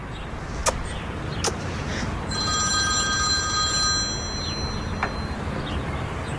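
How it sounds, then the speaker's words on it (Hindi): A telephone rings with a bright electronic trill that starts partway through and repeats for a couple of seconds, fairly faint against a quiet room with a few soft clicks. "साली का फोन आ रहा है।"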